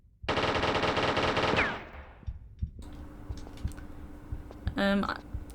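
Laser-triggered automatic turret firing in Tomb Raider 3: a loud, rapid burst of gunfire for about a second and a half, then a fading tail and scattered faint clicks and a short synthetic tone.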